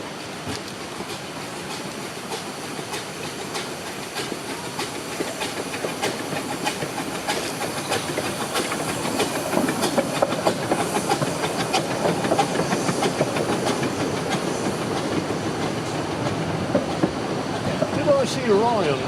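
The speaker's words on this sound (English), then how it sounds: "Now she must wait patiently for the arrival of the inbound train from Ravenglass." Small narrow-gauge La'al Ratty steam train rolling in from Ravenglass, a steady hissing rumble with faint rail clatter that grows louder and closer over the clip.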